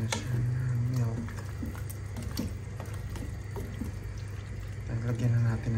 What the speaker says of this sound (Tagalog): Lagyan na natin ng tubig para kumulo.